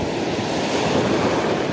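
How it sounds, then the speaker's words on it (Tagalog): Big ocean waves surge and crash around a boat in a continuous loud wash of surf, with wind rushing across the microphone. "Malaki ang alon"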